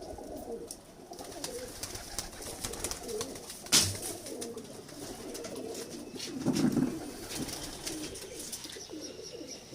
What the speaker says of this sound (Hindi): कैसे शानदार कबूतर है।